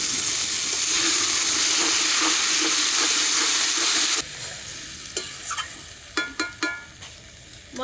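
Spices for a country chicken curry fry hard in a pan, a loud steady sizzle for about four seconds before it drops to a quieter hiss broken by sharp scrapes and clinks of stirring.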